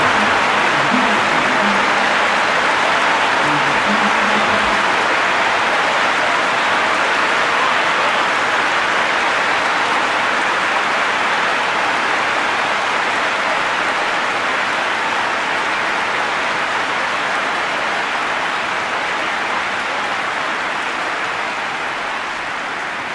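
A stadium crowd applauds steadily in PES 2021 during a Real Madrid vs PSG match, a dense, even wash of clapping that holds at a constant level throughout.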